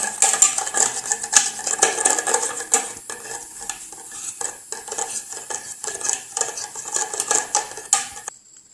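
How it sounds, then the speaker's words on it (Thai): A spoon stirs a homemade facial foam cleanser mixture in a bowl, giving close, rapid clinks and scrapes in an uneven rhythm that eases off toward the end, with no talking. "พอเราใส่ครบทุกอย่างแล้วเราก็ คนให้มันเข้ากันนะคะ"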